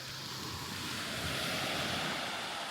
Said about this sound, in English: And look at this amazing beach